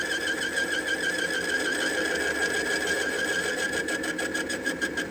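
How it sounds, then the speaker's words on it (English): A lathe boring bar cutting off threads on a metal workpiece, making a steady high whining, vibrating drone with intermittent chatter that grows more pulsed toward the end, close and continuous. "The boring bar, you'll hear it start cutting. You can hear the intermittent cutting"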